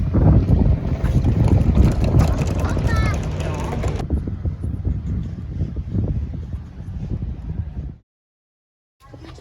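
A ferry crossing from Greece to Turkey: loud wind buffeting and rumbling engine and water noise on deck, fading quieter midway before cutting to near silence.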